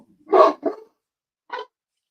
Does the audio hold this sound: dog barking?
yes